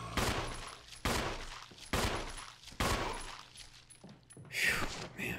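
Gunfire in Resident Evil HD, four sharp handgun shots spaced about a second apart, each followed by a short decaying tail, with a quieter burst near the end.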